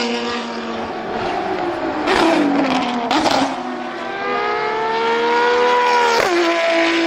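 A Ferrari 599 GTO engine holds a steady, loud tone that rises and falls in pitch through several revs, with a sharper burst near the end.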